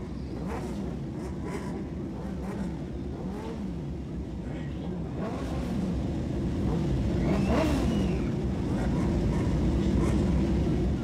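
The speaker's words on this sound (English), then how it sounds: "Drivers, start your engines." A field of 600-class race cars fires up on the front straightaway at Lanco, their engines building into a loud, dense, continuous roar with rising revs in the second half.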